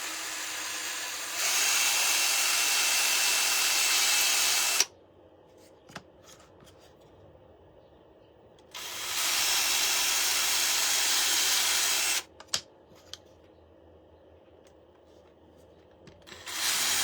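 A power drill bores a hole through a painted wooden shamrock in two steady, whirring runs of a few seconds each, close up, with quiet pauses between them and no talking.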